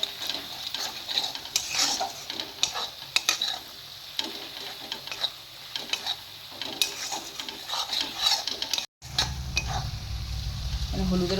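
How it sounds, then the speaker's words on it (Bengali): Chicken bhuna masala with turmeric frying in a pan, a steady close sizzle with scraping stirs throughout, briefly cutting out near the end before a louder, fuller frying sound resumes. "আমি এখানে ভালো করে মশলাটা ভেজে নেব যাতে হলুদের গন্ধটা চলে যায়।"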